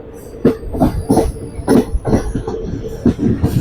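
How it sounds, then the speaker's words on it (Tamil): A train rolls along the rails through a rainy forest, with loud rhythmic clatter and thumping wheel beats repeating every half second or so, close up. "ரயில் ட்ராவல் பண்ணிட்டு இருக்கோம்"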